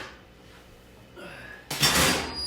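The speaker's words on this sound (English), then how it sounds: "Should close the other door, huh?" A door swings shut in a home kitchen during a cooking session, a brief quiet shuffle followed by a loud, broad thud and rattle that lingers near the microphone.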